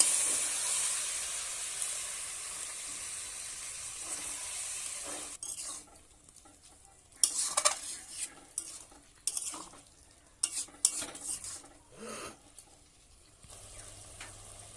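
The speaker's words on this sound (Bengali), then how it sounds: "একটু পরিমাণ মতো জল দিয়ে ঠিক করে নেড়ে চেড়ে নেব।" Small fish curry simmering with water in a pan gives a hissing sizzle at first, then gives way to intermittent stirring and scraping in the pan, close and uneven.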